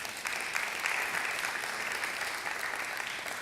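A conference audience of millennials claps in a dense, steady wash of applause that holds at an even level for a few seconds, with no voices standing out.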